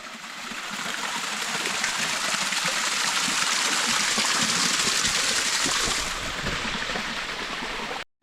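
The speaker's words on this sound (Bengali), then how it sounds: "এখানে একটা ঝর্ণা দেখা যাচ্ছে, এই যে ঝর্ণা।" Waterfall on the Melkhum trail near Chattogram, a continuous rushing roar of falling water, close and steady, easing slightly near the end before cutting off abruptly, with no talking.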